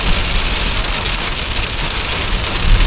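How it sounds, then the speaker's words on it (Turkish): Dense, steady patter of hail pounding a caravan, loud and continuous, with a faint low rumble of thunder underneath. "Şimşekli, gök gürültülü dolu."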